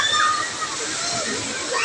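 Mountain spring water pours out steadily at a resort in Laguna, a continuous close rushing and sloshing flow with a person talking over it.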